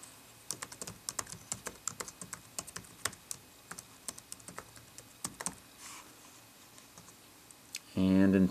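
A computer keyboard typed at a brisk, uneven pace with sharp individual keystrokes close to the microphone while an email is written, ending in a brief burst of louder sound.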